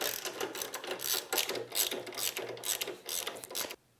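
Torx 40 bolts being backed out of the rear of a Harley-Davidson fuel tank with a ratcheting tool, giving a steady run of close, rapid clicking ratchet strokes with brief pauses, then an abrupt stop.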